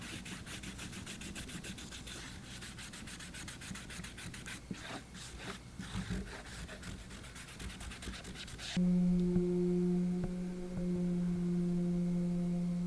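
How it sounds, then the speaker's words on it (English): Cotton swab rubbing alcohol-based dye across a leather knife sheath, a soft, steady scratchy swishing at close range that gives way near the end to a steady tonal hum. "What I'm gonna do is continue to spread out this dye."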